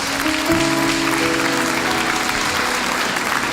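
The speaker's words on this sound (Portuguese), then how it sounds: "Pode aplaudir o Senhor, irmãos." A church congregation at a women's congress applauds during a sermon, a loud, steady wash of clapping with some tonal hum or voices running underneath.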